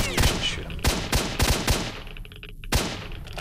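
Gunfire in the shooter game S.T.A.L.K.E.R.: Shadow of Chernobyl, with a series of loud, sharp shots in uneven bursts, some in quick succession, followed by a brief quieter gap and one more close report.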